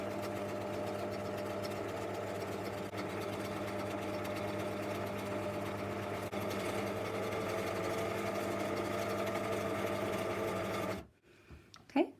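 A sewing machine runs steadily, stitching an appliqué piece onto fabric with a running stitch, its mechanical whir continuous and close before it stops abruptly near the end.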